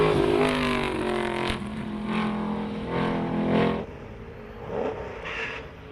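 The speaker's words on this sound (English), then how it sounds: "In the background, you can hear Sif just getting off the line there." A race car launches off the line at a hill climb event, its engine revving in several loud rising bursts as it pulls away, then fading into the distance.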